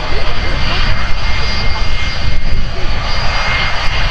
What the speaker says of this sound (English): The aircraft is an Airbus A321 belonging to Delta Airlines